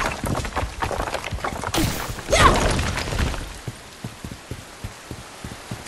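Rain falls in the Bright Memory: Infinite video game, a dense, steady patter of drops with a brief louder splashing burst in the middle, then thinning to scattered individual drips toward the end.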